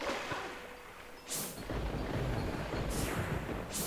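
Thunder rumbles from a storm in the video game The Legend of Zelda: Twilight Princess, with two sharp cracks and rolling low booms over steady rain-like noise.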